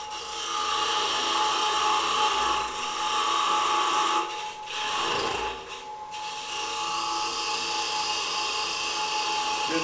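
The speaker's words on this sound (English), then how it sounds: "And this really is just peeling the wood." A spindle gouge peels wood from a spinning top blank on a lathe, giving a steady, loud scraping whine with brief dips as the tool lifts off around the middle, close and continuous with no talk.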